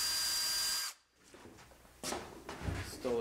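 A power drill drives a screw into a wooden garboard plank on a Caledonia yawl under construction, a loud steady whir that stops abruptly, followed by quieter handling clatter and brief bursts of talk.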